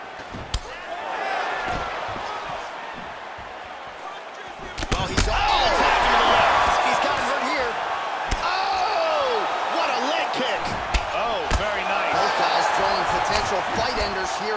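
Kicks land in a UFC bout in EA Sports UFC 3 at the Honda Center in Anaheim, sharp slapping impacts over a loud arena crowd, with a commentator talking.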